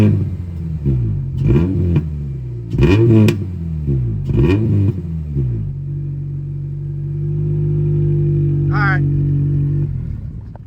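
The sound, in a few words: Honda FA5 car starting and revving with stock exhaust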